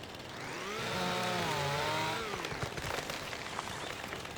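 A chainsaw in the Farming Simulator video game revs up and holds a steady whine for about two seconds, then cuts out into scattered crackling bits as the wood gives way, fairly faint overall.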